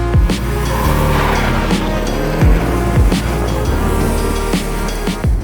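A 2024 Porsche Boxster on the move, a steady, close engine and road roar with rumbling tire noise and occasional thumps and bumps, no talking over it.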